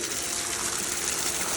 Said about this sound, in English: can see how dirty the water is coming out